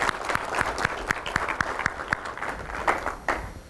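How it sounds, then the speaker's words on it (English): Applause from an Air Force enlisted audience at a character development session, a thin, moderate patter of claps with a few sharper individual claps standing out, steady for a few seconds with no talk. "I want everybody to give yourself a round of applause"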